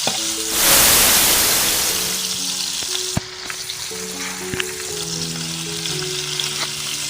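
Ginger garlic paste dropped into hot oil for Goan prawn chops, a loud burst of sizzling that settles into steady frying, with sharp clinks and scraping from a spoon mixing it close by.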